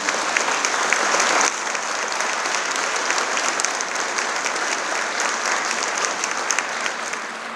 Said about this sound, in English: Jeff, I'm just going to ask you to stand and get a round of applause